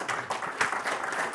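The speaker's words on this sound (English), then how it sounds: "how about another round of applause for Jenny?" Audience at a SATURN 2016 software conference talk applauds for Jenny, a steady, moderately distant patter of many hands clapping with no voices over it.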